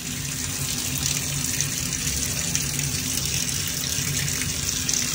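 Shower water runs continuously during a hair wash, a steady, dense hiss of spray close by with no pauses and no voices.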